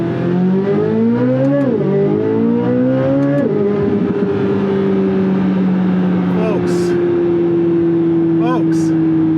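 A Chevrolet Corvette Z06 engine revs hard, climbing in pitch through a couple of gear pulls before settling into a loud sustained drone close by, with brief higher whines near the end.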